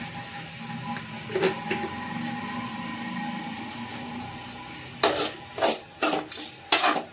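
Something sautés in a pan on the stove, a soft frying hiss under a series of sharp spoon scrapes and clanks against the pan that grow more frequent toward the end.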